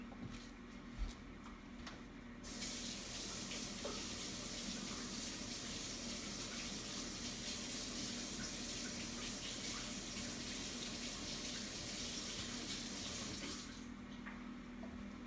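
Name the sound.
hot tap water running under ice cube tray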